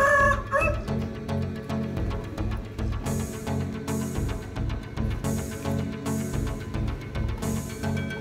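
Chickens and roosters at an illegal cockfighting gambling arena raided by police, clucking and crowing nearby over a rhythmic, repeating pulse of background music.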